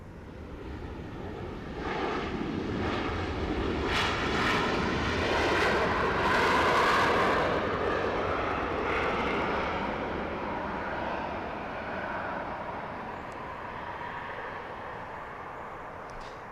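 A Qatar Airways airliner at Los Angeles airport rumbles in the distance as it prepares to taxi, a broad steady engine roar swelling and slowly fading.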